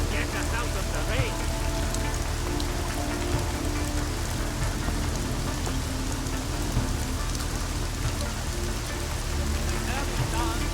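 Steady rain falls throughout a scene in the video game Deus Ex Mankind Divided, a dense continuous patter on surfaces with low ambient rumble, holding level and close for the whole stretch.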